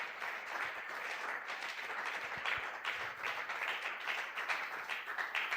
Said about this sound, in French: Acclamons encore pour la gloire de Jésus.